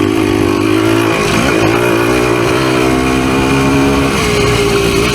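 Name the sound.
PE250 dirt bike engine revving on trail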